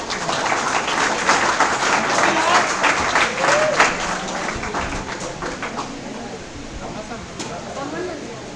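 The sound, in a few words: audience applause at felicitation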